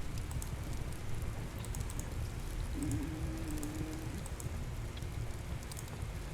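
Steady, dense heavy rain in the game Chained Together patters and hisses continuously at a moderate level, with a brief faint tonal whine in the middle and no talking.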